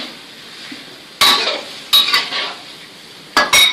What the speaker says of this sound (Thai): ใส่น้ำแล้วก็ตามด้วยผัดใบกะเพราเลยค่ะ